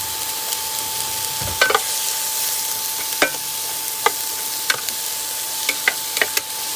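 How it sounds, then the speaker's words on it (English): Carrots, onions and celery sauté in a pan with a loud, even sizzle, broken by scattered sharp clicks and taps of a utensil against the pan. "We're just going to saute that up, kind of maybe 2 to 3 minutes before I add in the mushrooms."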